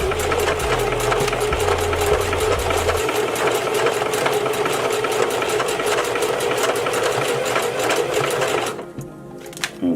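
A sewing machine runs steadily and fast, stitching weft hair tracks together, with a continuous rapid needle chatter close up that cuts off near the end, and no talking.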